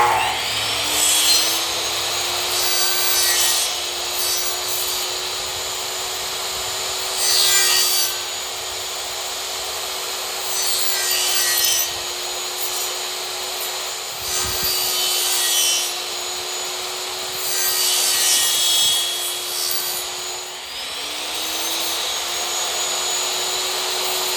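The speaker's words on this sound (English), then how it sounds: "I use this and I kind of just drag this around, cut gouges out of it, take random cuts and put them throughout the piece" A hand tool is dragged across a wooden flag piece to gouge and distress the wood, giving repeated scraping, rasping strokes close up over a constant background hum, with no talk.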